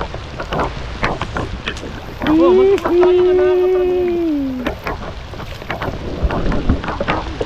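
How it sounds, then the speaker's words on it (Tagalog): Heavy rain pours down outdoors near boats, a steady broadband wash of water with a brief rising and falling tone partway through, while people talk over it. "Sa lakas ng ulan."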